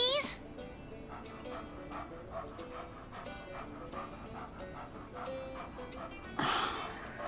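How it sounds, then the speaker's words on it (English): A puppy in Life is Strange 2 whimpers and pants softly in a string of thin, high cries beneath characters talking nearby. "Oh, can we have the puppy?"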